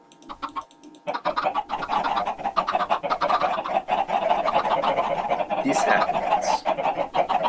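Chickens in the Minecraft video game, a dense run of rapid overlapping clucks that fills several seconds after a short spoken remark.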